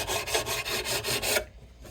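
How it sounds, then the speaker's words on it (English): Sandpaper rubbed back and forth over the frets of a Blueridge BR-40 guitar neck, about seven rhythmic rasping strokes close up, then the scraping stops into near silence. "polishing out these frets with sandpaper up and down the neck"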